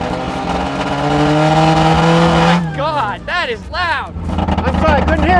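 A modified Mazda Miata's engine revs hard and loud, with a sustained roar followed by several rising and falling revving sweeps, close by, while people talk and exclaim over it.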